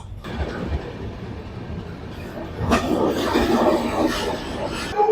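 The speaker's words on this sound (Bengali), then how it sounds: "ভুবনেশ্বর এখন ট্রেন ঢুকছে প্রায়" The Howrah Shatabdi Express rolls into Bhubaneswar station, a steady rumble of moving rail cars heard from on board with some wheel and track noise.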